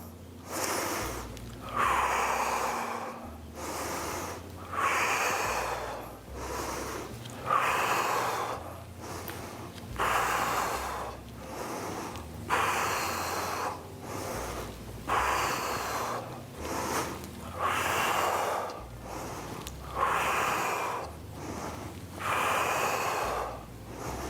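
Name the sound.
heavy exercise breathing, inhaling and exhaling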